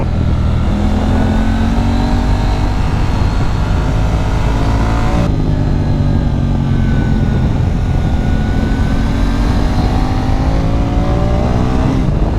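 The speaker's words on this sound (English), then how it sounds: "Like under low RPM, this bike is so smooth, guys. For a parallel twin, it's surprisingly smooth," A 2024 KTM 990 Duke parallel-twin motorcycle being ridden at low RPM gives a loud, continuous, smooth engine drone close up, with gentle rises and falls in pitch and no voices.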